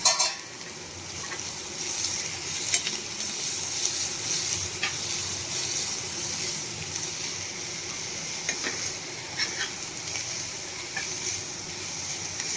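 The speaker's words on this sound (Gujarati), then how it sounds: "આપણે આને 2 થી 3 મિનિટ હલાવતા જઈને પકાવી લેશું" Cabbage and chilli sambharo with salt and turmeric cooks over medium heat, giving a steady sizzle broken by the scrape and tap of stirring in the pan.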